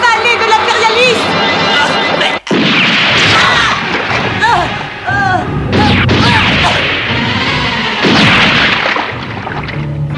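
Gunfire and crashing impacts erupt in an anime action scene, with sharp bursts and one abrupt bang amid dense sound effects and shouted dialogue layered throughout.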